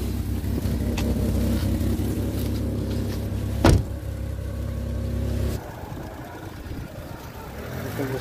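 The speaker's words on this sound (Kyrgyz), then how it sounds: "Достор айдап коюлат машина." A basic-trim Uzbekistan-assembled Matiz car with manual windows and no air conditioning drives along, its steady low engine and road rumble filling the cabin, with a brief bump midway and a quieter stretch at the end.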